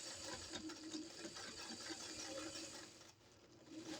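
A sewing machine stitches back and forth across the top of a shirt placard at the neckline, a soft, steady mechanical whir with a brief dip in the middle.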